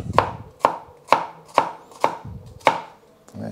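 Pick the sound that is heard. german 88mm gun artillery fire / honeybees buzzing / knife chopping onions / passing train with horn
knife chopping onions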